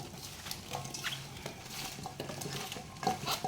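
A spoon stirs apple olives with a spoonful of salt, giving repeated close scraping and clinking against the container in short uneven strokes.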